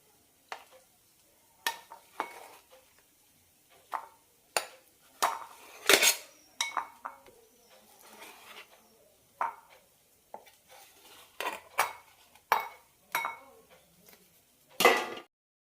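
Steamed aval coconut idlis being lifted from idli steamer plates, a series of sharp metallic clinks and scrapes of the steel plates and spoon, spaced irregularly and fairly close, with no voices.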